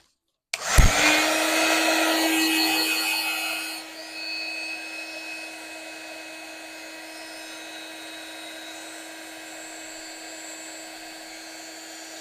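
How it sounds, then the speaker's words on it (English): A heat gun switches on abruptly and roars steadily with a high whine while heat embossing a craft card. After a few seconds it drops to a lower, even hum that continues unbroken, with no talking. "And then we'll just heat emboss this"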